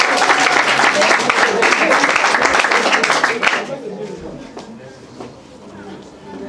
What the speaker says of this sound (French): Qu'on demande d'acclamer.